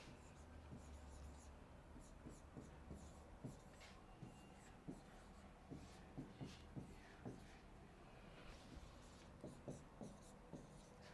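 Pen writing an answer during a reasoning lesson, a faint series of quick scratchy strokes in an irregular rhythm, close and quiet with occasional soft murmuring.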